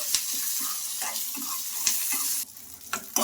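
Peanuts fry in hot oil with curry leaves for a chutney, a close, steady sizzle with occasional stirring scrapes and a sharper burst of spattering near the end.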